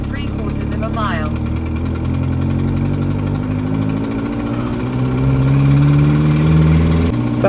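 A Renault 6 with its 1100 engine runs on the road, a steady, loud, low mechanical drone whose pitch climbs under load while a person talks over it.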